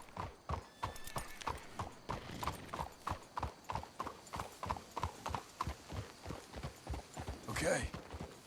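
Horses' hooves clip-clop at a steady walking rhythm in Red Dead Redemption 2, crisp, evenly spaced hoof strikes close by, ending with a brief horse whinny or snort near the close.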